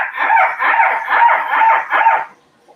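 A child imitates a seagull during a beach-themed yoga session for young children, giving about five loud, rhythmic squawking calls in steady succession, close to the microphone, followed by silence.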